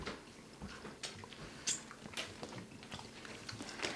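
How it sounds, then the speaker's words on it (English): Someone bites a dried prune in half and chews it: soft, moist bites and chewing sounds close to the microphone, faint over a quiet room hiss, with no speech. "I'm biting it in half."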